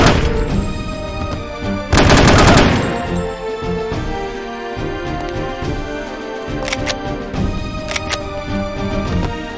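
Gunfire crackles in No One Lives Forever, with a loud burst of rapid shots early on, then scattered sharp single reports among clanking game effects.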